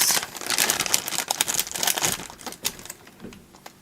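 Plastic packaging rustles and crinkles around resin ornament molds, a loud, close, continuous crackle that thins out toward the end, with no speech.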